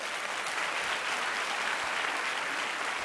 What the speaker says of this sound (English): So give him another round of applause.